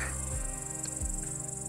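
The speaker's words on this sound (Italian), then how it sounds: "sentite sottofondo i grilli" Crickets chirp on a mountain ridge above Lake Como, a steady, faint, high-pitched shimmer in the background with low wind rumble beneath and no voices.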